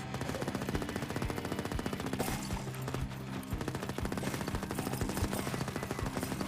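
Lightning Tommy gun in the roguelite game Erosion firing a continuous rapid automatic stream, close and steady, with dense rhythmic shots over busy game effects.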